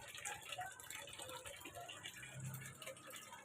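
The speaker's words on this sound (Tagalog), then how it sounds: "Malakas ang tubig." Water gushes strongly from a tap in a Tondo, Manila home, a steady faint rushing with light rattling, while a voice speaks softly underneath.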